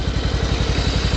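An old tractor engine runs after starting, chugging with a fast, even, loud mechanical pulse and clattering close by, alone without talk.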